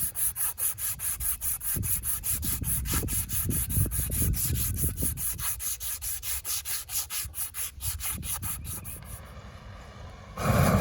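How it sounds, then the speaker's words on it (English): Wire brush and sandpaper scrubbing a cast-iron John Deere 302 disk plow casting, close and loud, in steady rapid back-and-forth strokes for about ten seconds with a brief pause near the end. "I'm gonna clean it up here with the wire brush and some sandpaper."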